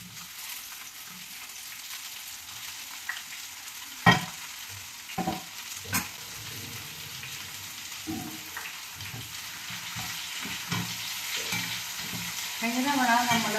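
Ivy gourd (kovakka) stir-fry with onions sizzling and frying in a pan, a steady close hiss with scattered stirring clatters and a few sharper scrapes, no talking.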